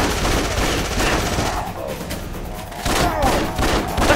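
Rapid gunfire bursts and heavy fusillades from the video game Afterfall Insanity sound loud and continuous, with brief gaps between volleys.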